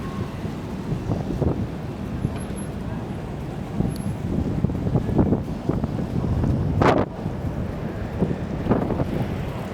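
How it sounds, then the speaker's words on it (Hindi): Cold wind gusting across Toronto's Yonge-Dundas Square on a rainy day, a steady rumbling buffet against the microphone with rising and falling surges and a sharper gust near the end. "काफ़ी ठंडी हवा चल रही है।"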